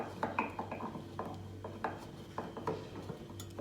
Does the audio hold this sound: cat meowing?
no